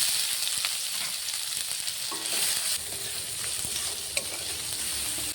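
Chopped onions fry in oil with cumin seeds for a Bengali-style okra curry, a steady bright sizzle running throughout with occasional scrapes and taps of a spoon stirring the pan.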